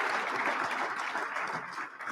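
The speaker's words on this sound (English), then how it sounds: "Let's give them another round of applause" Audience at a policy talk on eggs, water, wolves and wildlife giving a round of applause, a bright, even patter of many hands that holds for about two seconds before thinning.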